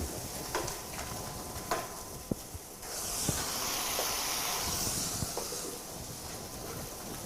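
Pot sticker dumplings steaming in a covered pan with a little added water, a steady close hiss rising after a few seconds and holding, with faint clicks and taps in the pan.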